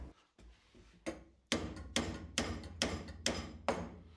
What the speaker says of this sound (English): let's see if I can give it a good bashing in the vise and see if I can make a joggle out of it that way